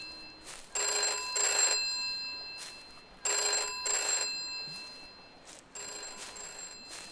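A telephone bell rings in the Ouija Board horror video game: three loud, clear double-ring bursts separated by pauses, with no other sound alongside.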